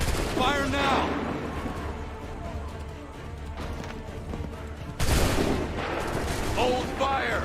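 Musket volleys ring out in Assassin's Creed 3 amid a busy battlefield, with a sharp burst of fire near the start and another loud wave after a sudden cut, under shouted voices and hints of horses.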